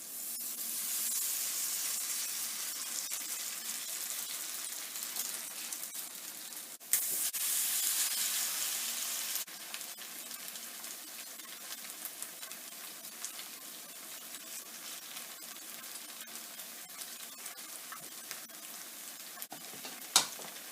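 Potato pancake batter patties frying in a pan for a middle school cooking class, a steady bright sizzle throughout with occasional sharp spits and pops, no talking.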